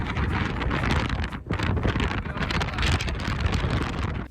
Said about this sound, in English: on this day it was just a tiny bit windy